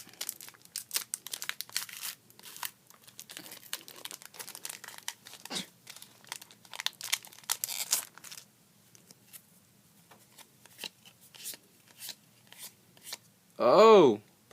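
A foil trading card booster pack crinkles and tears open in close, quiet bursts of rustling, ending with a short loud sound near the end.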